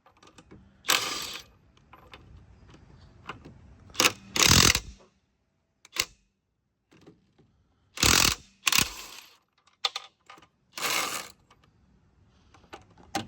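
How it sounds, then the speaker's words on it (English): Bursts of a ratchet wrench working on the wheel lug nuts of a Dodge Magnum SRT, several loud clicking runs separated by quiet gaps, with no talk. "So we just finna loosen the lugs up."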